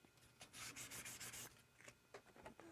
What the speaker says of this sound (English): So yeah, the Duro 70 flexes and all that. It works really good for hand sanding.